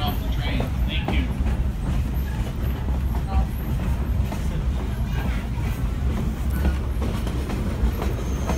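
A Hobo Railroad excursion train rolls along the rails in a loud, steady rumble with rattling cars and faint clickety-clack, while voices murmur aboard.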